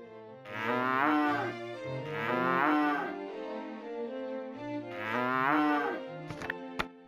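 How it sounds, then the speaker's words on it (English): A cow moos three times in long, loud, close calls with short gaps between them, followed by a couple of brief clicks at the end. "A cow says moo"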